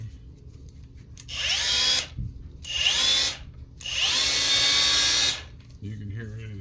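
Freshly greased cordless angle grinder spun up three times in close, loud whirring bursts of one to two seconds each with short pauses between. Faint talk follows at the end.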